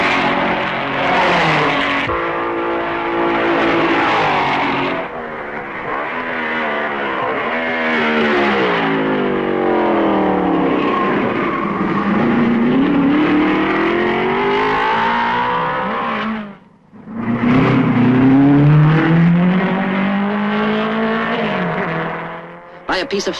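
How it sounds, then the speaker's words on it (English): 1955 Spa Grand Prix race cars, including a Maserati, roar past with rising and falling engine pitch, loud and continuous, with a brief drop-out before another car sweeps through. "Kling passes Musso at Malmedy."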